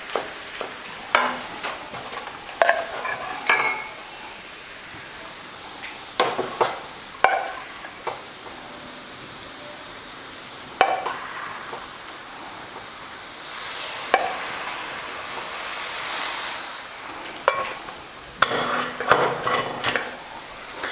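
Boiled vegetables being mixed and mashed in a pan for Mumbai pav bhaji make intermittent scraping and clanking spatula strokes over a soft frying sizzle, close and moderately loud, with pauses between bursts and no talking.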